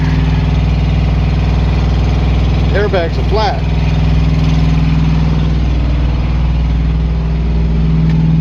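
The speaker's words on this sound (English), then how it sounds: "I'm gonna go right up next to that APU, so it might be kind of loud" A truck's auxiliary power unit runs close by with a loud, steady low mechanical drone, and someone speaks briefly over it.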